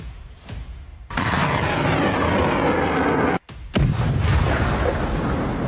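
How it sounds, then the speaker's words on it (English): A loud roaring blast from a HIMARS rocket strike erupts and sustains as a rushing rumble, briefly cut off, then a second sharp crack and roar follow close by as struck ammunition ignites. "HIMARS launched a strike without delay."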